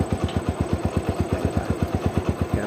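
A small engine idles steadily right after a carburetor overflow repair, a close, even putter of rapid regular firing pulses with light mechanical clatter and no talk.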